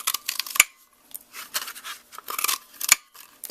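Scissors cutting designer series patterned paper for a handmade card, close crisp snips and rustling paper in a quick irregular rhythm, with a few sharp clicks of the blades, heard alone.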